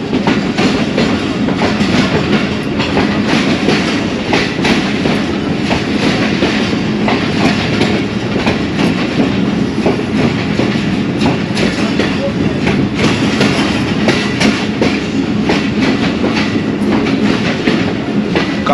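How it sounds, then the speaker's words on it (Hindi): A passenger train moving slowly through fog, with a loud, continuous rumble and rhythmic clickety-clack of wheels on rail joints, heard from inside the carriage throughout. "धुंध की वजह से काफ़ी स्लो चल रही है ट्रेन"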